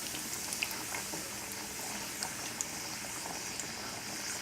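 A piece of Chilean sea bass sizzles in hot oil at 375 degrees, a steady, even crackle and hiss with small pops scattered throughout, close and continuous with no talk over it.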